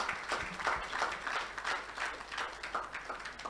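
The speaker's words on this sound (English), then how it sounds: "Can we give them a round of applause, please?" Faint, distant applause from a colloquium audience, a soft continuous patter of clapping hands lasting a few seconds with no one speaking over it.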